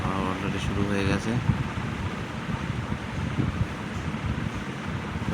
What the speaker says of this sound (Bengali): ঝড় যখন তখন উঠে আসবে। হাওয়া অলরেডি শুরু হয়ে গেছে।